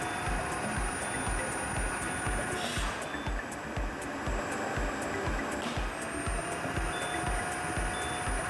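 A Parkside Performance PPWD 30 B2 workshop wet-dry vacuum, with its suction hose lid closed, sounds a regular series of sharp warning beeps over the loud, steady drone of its running motor, heard up close.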